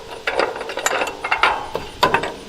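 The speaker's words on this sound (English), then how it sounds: "And then this is the wrench that loosens up that" A wrench works loose a nut on a railway searchlight signal, giving a close, loud series of ratcheting clicks and scraping metal turns in an uneven rhythm, with no talk.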